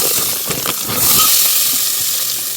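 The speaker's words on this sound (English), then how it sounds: "We're going to let it sizzle and we're going to stir it" Food hits hot oil on a stovetop for a plant-based vegan meal prep, giving a loud, steady hiss with bursts of crackle and spatter, close and uninterrupted.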